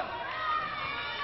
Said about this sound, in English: also taking the wrath of the crowd once again